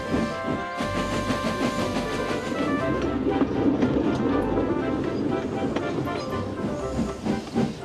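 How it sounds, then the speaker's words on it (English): A steam engine in a Trainz simulation chuffs into a station with rhythmic clatter and hissing, a steady mechanical rumble that stays fairly close and constant. "They chuffed gently into the station."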